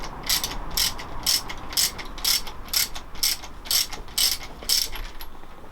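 A ratchet screws down a part on a USD motorcycle front fork during a GS500 scrambler build, clicking in about ten rapid bursts with short pauses between, close and clear with no talking.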